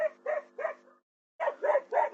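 Dogs barking in quick bursts of three, a short pause, then another run of three, fairly close and clear, with no talking over them.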